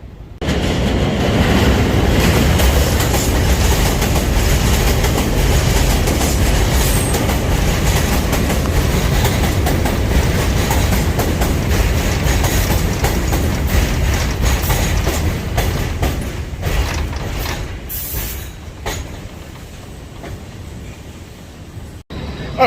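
A commuter train runs on the tracks, a loud continuous rumble with clickety-clack rhythm and brief wheel squeal near the end, heard close from a station platform.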